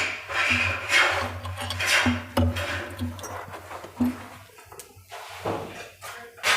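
Scraping and rubbing of a male-female connecting screw being fitted into a Hettich tandem box drawer in a marble kitchen, with soft clicks and scuffs close by and a low background hum.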